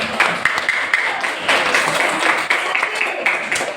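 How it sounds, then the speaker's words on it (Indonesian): Classroom clapping for a pupil during an Indonesian primary lesson; a small group of children claps in quick, uneven bursts for several seconds, fairly close, with faint voices mixed in. "Tepuk tangan untuk Pak Dik."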